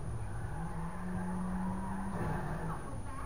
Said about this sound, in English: Do a burnout and then do it.